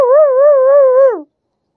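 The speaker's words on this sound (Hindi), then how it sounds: "आज तो खेल भी करने लग गया भाई अपना कुत्ता" A pet dog lets out one sustained, wavering whine, loud and close, that lasts just over a second and then cuts off into silence.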